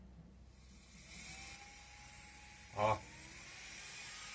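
A ZEM electric nail drill handpiece whirs steadily at low volume, its rotating bit scraping against the casing, with one short, louder grinding burst near the end.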